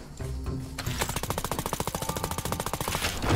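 Rapid machine gun fire in the video game Trifox, a fast even burst of sharp repeated shots lasting a couple of seconds after a brief lead-in of game sounds.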